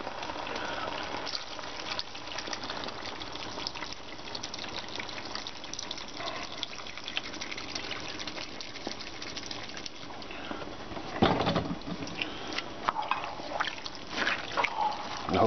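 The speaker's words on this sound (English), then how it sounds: "container of beef flavored broth" Beef flavored broth poured from a 32-ounce container into a pot of cabbage roll soup, a soft continuous liquid trickle and splash heard fairly close, with a brief louder splash near the end.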